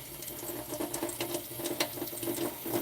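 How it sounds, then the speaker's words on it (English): Tap water runs steadily into a kitchen sink while one hand is washed, a close, continuous splashing patter with small irregular spatters and no speech. "I can actually wash my hand."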